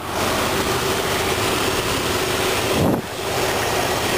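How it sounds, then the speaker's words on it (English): A 2000 Jeep Grand Cherokee Limited's 4.0-liter PowerTech inline-six idles with a steady, continuous drone, heard outdoors with wind buffeting the microphone and a brief louder whoosh near the end. "this one's the 4-liter PowerTech V6 engine, or inline 6"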